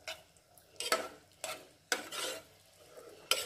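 Onam olan simmering down in a pot while a spoon stirs it, giving four sharp scraping clatters spaced about half a second apart over a faint bubbling hiss, no voices.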